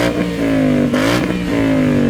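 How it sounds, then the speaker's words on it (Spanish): A 2021 Ford Mustang GT with a 5.0-litre V8 and manual gearbox revs hard, its loud engine tone climbing, dipping briefly and rising again in a steady throaty roar close by. "Concretamente os voy a enseñar un Mustang GT del año 2021 y con caja manual"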